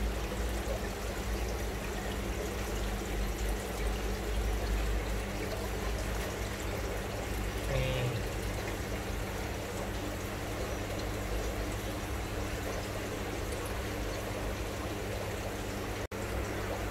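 Water flowing down through an aquarium central filtration system, a steady even trickling rush that stays constant and moderately quiet throughout, with no voices.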